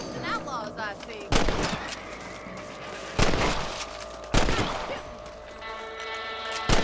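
Rifle shots at rabbits in the video game Red Dead Redemption, three or four sharp, loud single cracks spaced a second or two apart over quieter ambient game sound.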